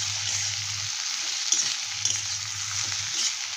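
Onion and potato for kanda batata bhaji sauté dry in a pan without water, giving a steady close sizzle broken by a few sharp spatula scrapes and taps, with no talking.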